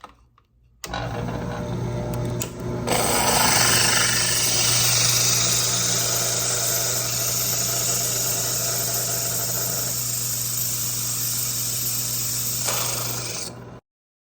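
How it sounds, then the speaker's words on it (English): A drill press cuts circles in glass for fused glass work, giving a loud, steady motor whine with continuous grinding and hiss for about thirteen seconds before stopping. "I'm going to take these two pieces to the drill press, and we'll cut some circles"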